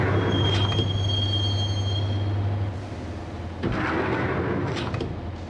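Subway train rides along the rails in the video game Max Payne, a loud rumbling clatter with a high squeal of wheels, briefly dropping in level before surging again.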